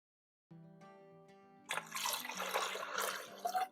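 Water pours into a Pampered Chef quick cooker holding pinto beans, beginning as a thin ringing trickle before swelling into a full, splashing gush that stays loud to the end.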